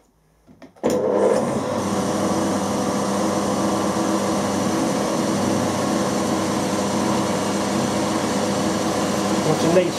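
A 5.5mm drill bit on an AM 16 mini mill starts after a brief silence, then a loud steady motor whine and cutting hum runs without break to the end.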